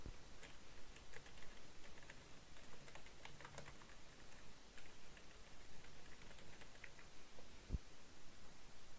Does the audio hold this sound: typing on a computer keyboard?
yes